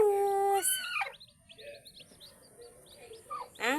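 Newly hatched chicks peeping beside a mother hen, a scatter of short high chirps at moderate distance, framed by louder tonal whistles at the start and end.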